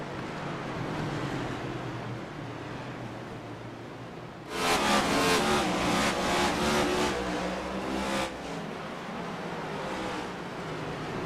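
Race car engines roaring at Martinsville in iRacing, a steady drone that swells loudly midway with pulsing revs as cars pass close, then settles back to a lower hum.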